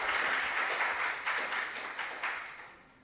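Audience applause for the competing schools at a regional junior science and maths quiz contest in the Ashanti Region, a steady patter of clapping that swells briefly and then fades toward the end.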